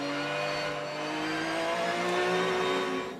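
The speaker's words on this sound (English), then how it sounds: "You could see how squirrely that car was, Tommy. You could hear it, too." A race car engine revs on track during a Porsche 250 race, a loud, sustained high-pitched whine that holds steady and then fades slightly at the end, heard alone without commentary.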